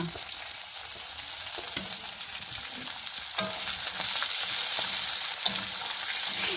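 Onions frying in a pan with bay leaf, cloves and cardamom, a steady close sizzle with scattered crackles and scraping stirs, growing slightly louder midway.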